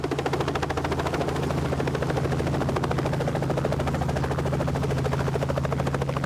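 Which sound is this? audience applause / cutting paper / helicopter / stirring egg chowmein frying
helicopter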